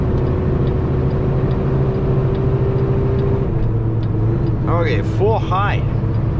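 A Volvo EC380EL excavator engine near Beatty, Nevada hums at a loud, steady drone with a low tone that climbs partway through, while people talk over it.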